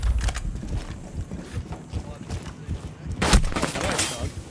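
Video game gunfire, a burst of rapid shots with a louder volley near the end, mixed with game sounds while players talk.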